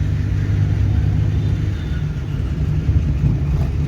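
Car engine while driving and gearing down, a steady low rumble with road noise that holds evenly throughout, no clear revving peaks.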